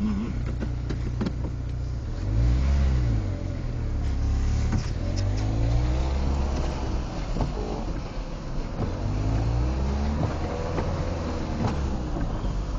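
A car engine drones and surges while the vehicle lurches over rough, rutted ground where it once got stuck, with low revving swells and scattered knocks and rattles from the body; the engine is close and continuous, with no talk.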